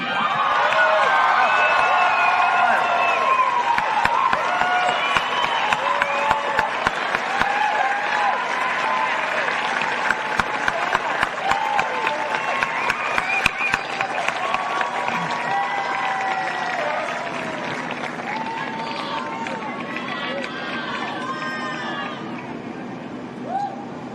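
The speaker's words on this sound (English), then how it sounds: "let's give a big round of applause to Lieutenant Colonel Jeremiah Kirschman" A large crowd at an Air Force base event gives Lieutenant Colonel Jeremiah Kirschman a sustained round of applause, with dense clapping and cheering lasting many seconds and murmuring voices as it slowly fades.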